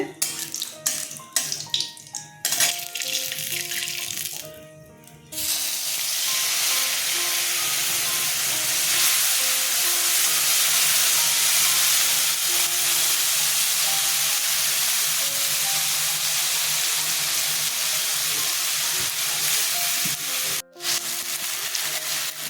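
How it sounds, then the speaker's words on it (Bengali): Ginger and green chili paste frying in hot oil for a Bengali vegetarian ol kochu dalna, a loud, steady broadband sizzle that holds continuously after a brief quieter start, with no talking over it. "আদা আর কাঁচা লঙ্কা পেস্ট করে নিয়েছে ছেড়ে দিচ্ছে"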